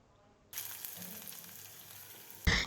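Mustard seeds, crushed garlic, chopped green chilli and sliced onion hit hot oil with a sudden loud sizzle that holds steady, then a sharp burst of clatter near the end.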